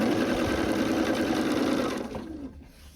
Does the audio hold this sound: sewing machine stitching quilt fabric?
yes